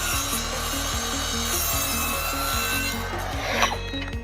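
An Evolution R185SMS-Li cordless radial mitre saw cuts through wood, a steady rasping blade drone with rhythmic grinding strokes, close and continuous with no talk.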